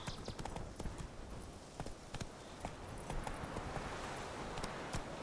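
Horse hooves in The Witcher 3: Wild Hunt beat a rapid, steady galloping clip-clop throughout, close and fairly loud, with no talking.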